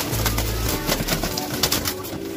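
Male racer pigeons coo in a loft, soft rolling calls repeating close by over a busy background murmur.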